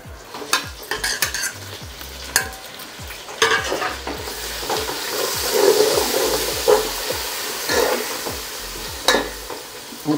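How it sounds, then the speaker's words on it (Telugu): Mint leaves crackle and sizzle as they are tempered in a hot pan for chicken biryani, with frequent metallic clinks and scrapes of a spoon stirring throughout. "ఇప్పుడు ఈ 2 కలిపి తాలింపులు వేసుకుందాం"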